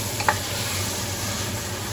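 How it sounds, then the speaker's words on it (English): Italian hot peppers fry in a pan with a steady, moderate sizzle and one brief sharp tick near the start, heard close with no voices. "I'm going to fry this up."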